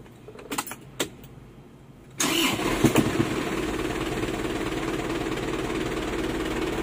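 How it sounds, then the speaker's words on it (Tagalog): An Isuzu 4JB1 diesel engine cranks and catches after a few light clicks and knocks. It settles into a steady, loud, close-up running drone with no talking. "Start natin siya uli"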